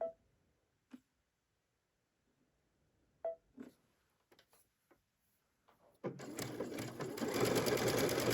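A sewing machine with a three-hole cording foot runs a decorative stitch: sparse clicks and knob adjustments come first, then a steady, close mechanical whir takes over for the final seconds.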